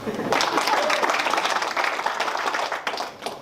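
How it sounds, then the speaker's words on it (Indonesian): A church congregation claps together during a sermon, a dense, loud burst of applause that fills the room steadily for a few seconds before tapering off near the end. "Tepuk tangan."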